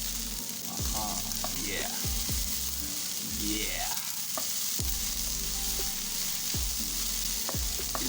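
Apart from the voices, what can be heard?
mixing vegetables frying in a pan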